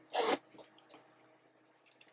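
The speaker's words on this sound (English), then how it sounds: "The zipper is really nice." A zipper runs on a dusty rose Amazon bag, one quick close rasp followed by a few fainter small rubs and clicks, quiet and alone with no talking.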